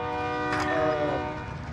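Train passing in a video game, a sustained horn-like tonal drone with rolling rail rumble, steady and fairly loud throughout the short moment.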